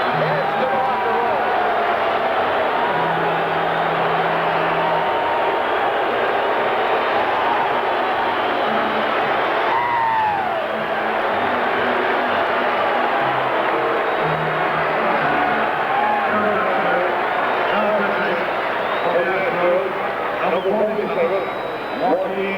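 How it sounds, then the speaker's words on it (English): A baseball stadium crowd roars steadily as pitcher Sutton walks off to the locker room, a dense sustained swell of cheering and noise that runs through the whole stretch at a loud, even level, with an announcer talking over it. "Listen to the crowd now as Sutton heads to the locker room."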